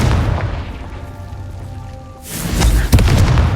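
A Confringo blast spell goes off in the video game Hogwarts Legacy, a loud booming burst after a stretch of ambient tones, with the rumble swelling and a sharp crack near the end.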